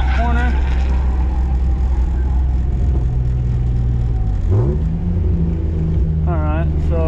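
A drift car engine hums loud and close at a steady drone on a warm-up lap around the track, its pitch climbing in a smooth rev near the middle and again at the end, with someone talking over it.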